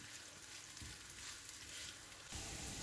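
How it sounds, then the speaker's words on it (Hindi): Sliced onions softening in three or four tablespoons of hot oil in a pan, a quiet steady sizzle and crackle with a slight stir-like shift near the end, no talking. "इसमें ऑनियंस को बस सॉफ्ट करना है"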